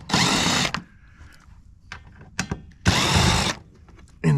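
A power nut driver spins off nuts while scrapping copper, two loud sustained whirring bursts of about a second each, separated by quieter clicks and handling knocks, with a third burst starting at the end.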